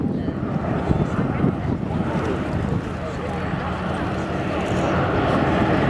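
An old bomber with a chin turret flies past at the Shoreham air show, its engines a broad, steady drone under wind buffeting while a commentator talks over it.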